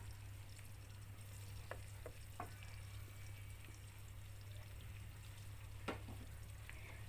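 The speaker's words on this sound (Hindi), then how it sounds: "ये दोनों को एक साथ फ्राई करूँगी।" Onions and whole garam masala fry together in oil, a soft, steady sizzle with a few faint utensil clicks and a low hum underneath, no talking.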